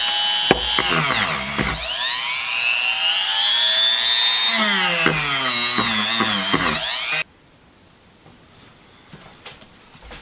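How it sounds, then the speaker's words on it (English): A power tool fitted with a wire wheel strips rust from a No. 2 Athol vise, its motor whining loudly with rising and falling pitch for about seven seconds before cutting off to near silence. "We got almost all the rust off of this with the wire wheel."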